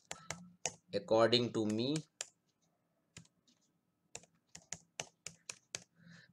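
Computer keyboard typing in sharp, clustered clicks as a MySQL root password is entered, a few keystrokes early, then a quiet gap, then a quick run of taps near the end, with a short spoken phrase in between.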